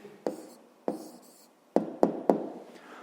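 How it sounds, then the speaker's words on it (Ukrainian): A pen writes out the answer to a fifth-grade percentage word problem on paper, heard as several short scratchy strokes and sharp taps at close range with no talking. "Ну що ж, записуємо відповідь."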